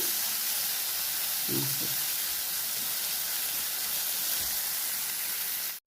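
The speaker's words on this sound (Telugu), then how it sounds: "ఉల్లిపాయలు కొంచెం దోరగా వేగాలి" Onions frying in oil with ginger and green chillies for upma, a steady bright sizzle and hiss running evenly and close, with a few faint clinks of a spoon in the pan.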